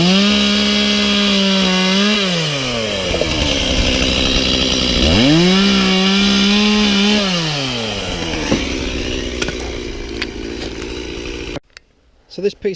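Husqvarna 120i battery-powered chainsaw cutting a piece of timber about six to seven inches thick: a loud electric whine rising and falling as the chain bites, with two strong cuts, then a softer tail and a brief stop near the end.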